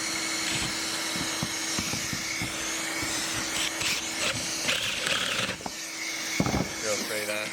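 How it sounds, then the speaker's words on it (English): A hoover runs steadily next to a 50mm Famag Bormax Forstner bit boring into MDF, a continuous whining drone with intermittent drilling bursts and a voice talking over it. "we'll just put our hoover on"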